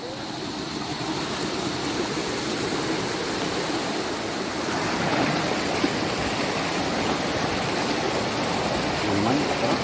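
Stream water flows on a bee farm in Sorsogon, a steady broad rushing wash that swells slightly louder midway, close and continuous throughout.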